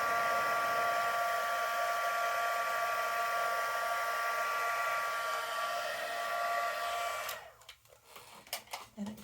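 Steady whirring hum of a heat tool used on frosted gingerbread, running loud and continuous for several seconds before switching off into quieter clicks and handling sounds.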